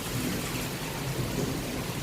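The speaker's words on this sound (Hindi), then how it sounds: "बारिश नहीं रुक रही है।" Steady heavy rain hisses across the whole clip, with a low rumbling of thunder rolling underneath; no voices, just a continuous, loud downpour close by.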